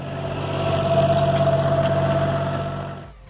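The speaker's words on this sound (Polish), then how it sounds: "Silnik w tym ciągniku jest to 3-cylindrowy Ford o mocy 46 koni i pojemności 2760" A Farmtrac 6050 tractor with a 46-horsepower, 2760 cc three-cylinder Ford engine idling steadily, a loud close rumble with a faint rhythmic pulse that cuts off abruptly near the end.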